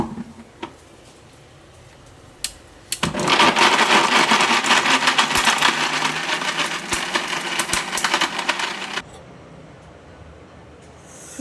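Spice paste for a Karnataka-style okra gojju being ground in a kitchen mixer grinder, a loud continuous whirring grind of about six seconds that starts abruptly and cuts off, with quieter kitchen sounds before and after.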